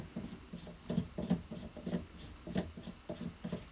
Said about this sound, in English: We're going to just screw this back on.